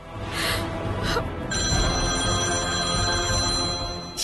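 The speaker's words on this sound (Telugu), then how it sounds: "ఎక్కడ ఫోన్ మోగుతోంది?" A telephone rings steadily and close by, an electronic tone that keeps going for several seconds after a brief bit of background noise.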